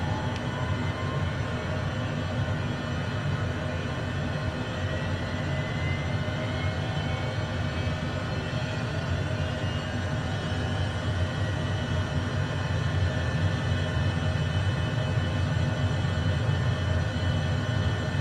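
Honda Jet turbofan engine spooling up in Microsoft Flight Simulator 2020, a steady, dense low rumble with a broad hiss and whine on top, holding level and growing slightly louder near the end.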